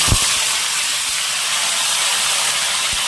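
Potatoes sizzle in hot oil seasoned with panch phoron and bay leaves for Bengali khichuri, a steady close hiss running throughout with a couple of low thuds near the start and end.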